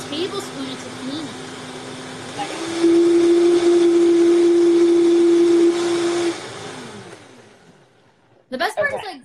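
A blender whirs through cauliflower pasta sauce with tahini, a steady loud motor drone with a strong tonal whine lasting several seconds, then winding down before brief clattering near the end.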